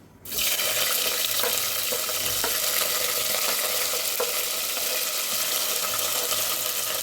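Sliced onions sizzle loudly in hot oil for a chicken bone white biryani, a steady broadband frying hiss with scattered pops and spatters, starting abruptly and continuing without pause; no one talks.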